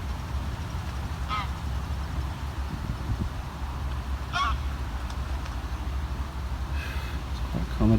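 A caught goose honks a few times at a carp fishing lake, brief nasal calls rising over steady wind and outdoor rumble, with people talking faintly in the background.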